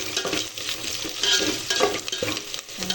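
Chopped onions sautéing in a pan, a soft steady sizzle broken by the scrape and clink of a spoon stirring against the metal.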